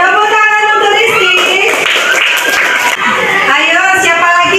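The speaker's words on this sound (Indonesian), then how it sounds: "Tepuk tangan untuk Risti." Pupils in a primary classroom clap together for a classmate who answered a teacher's question, a loud, close, rhythmic burst of group clapping mixed with children's voices chattering over it.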